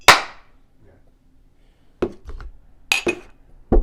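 Cups tap together in a toast, several sharp clinks spaced apart over a few seconds, close and fairly loud against an otherwise quiet room.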